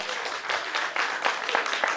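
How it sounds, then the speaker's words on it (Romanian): Crowd applause at a Romanian folk music and traditions festival after a folk dance ensemble performs, dense clapping with a few louder bursts, steady and fairly close. "Aplauze pentru Nicolas și pentru ansamblu Bobocu"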